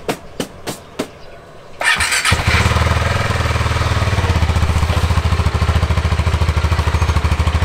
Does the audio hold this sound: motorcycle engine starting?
yes